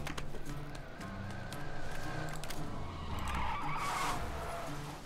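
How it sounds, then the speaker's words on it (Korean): A car skids in a video game, its tires scraping in a steady, loud rush of noise that lasts the whole moment, with broadband hiss swelling toward the end. "차소리"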